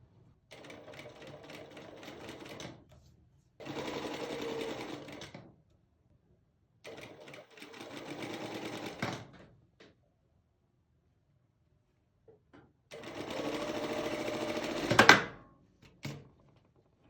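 A sewing machine stitches tulle fabric in four separate runs of steady, fast whirring stitching, each lasting a couple of seconds, with quiet pauses between them and a few clunks near the end.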